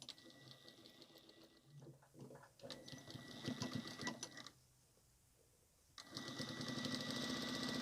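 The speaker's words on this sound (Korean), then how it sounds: "1cm 시접 준 것대로 쭉 박음질 해주고요. 네 코너 이렇게 박음질해서 만들어 주겠습니다." Sewing machine stitching the seams and corners of a fabric tissue box cover, a rapid, even mechanical whir in close bursts with a short quiet pause before it runs again.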